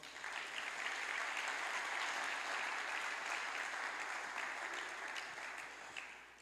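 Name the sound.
church congregation applauding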